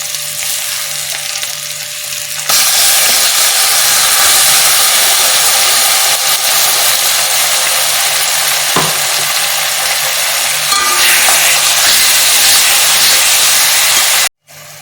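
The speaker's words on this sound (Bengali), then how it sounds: "পেঁয়াজ, আদা, রসুনের পেস্টটা আমি একটু নাড়িয়ে নিয়েছিলাম।" Onion, ginger and garlic paste fries in a pan for chicken cooked with spinach, giving a steady loud sizzle and hiss that jumps louder after a quieter opening, with occasional stirring scrapes and a brief cutoff near the end.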